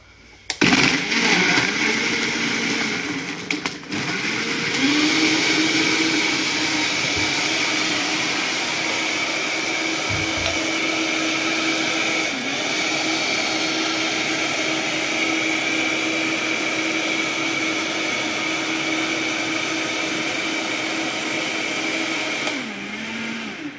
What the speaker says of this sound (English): This is the Vitamix here.